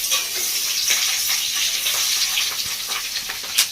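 Fish roe fritters sizzle and fry steadily in a hot pan just after being turned, a dense close crackling hiss with occasional sharper pops.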